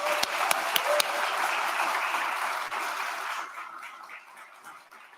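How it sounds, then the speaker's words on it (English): A crowd at the official opening of the Islandpreneur Live 2023 event applauds steadily, the clapping dense and sustained before tapering off into quieter scattered claps. "let's all give a huge round of applause to Ife Badejo and her team"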